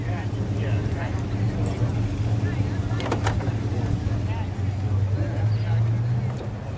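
A 1970 Dodge Coronet Super Bee with a 426 Hemi engine idles with a steady, deep, rumbling throb that holds at an even loudness, while people talk over it.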